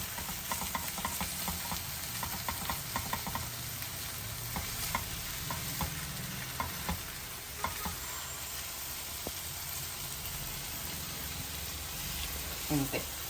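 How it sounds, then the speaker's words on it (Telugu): Sliced brinjal fries in oil in a non-stick pan, giving a steady, close sizzle while a wooden spoon stirs and scrapes the pan bottom in repeated strokes. "మంచిగా ఉడెన్ స్పూన్తో ఇలా అన్నారంటే అడుగంటిని కూడా మంచిగా వచ్చేస్తుంది ఇట్లా ఇట్లా మంచిగా తిప్పుకోండి"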